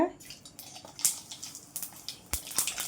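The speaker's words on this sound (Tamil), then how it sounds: "இப்போ இதில் நம்ம கொஞ்சம் கடுகு சேர்த்துக்கலாங்க" Mustard seeds dropped into hot oil in a kadai crackle and pop in small scattered bursts, quiet and close, with irregular spitting sizzles throughout.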